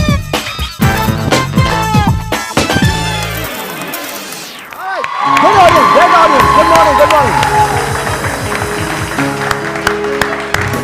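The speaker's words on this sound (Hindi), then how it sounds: "बहुत सारी तालियां।" A studio audience at a TV morning show cheers and applauds, a loud swell of clapping and shouts rising after a stretch of music, with the music still running underneath.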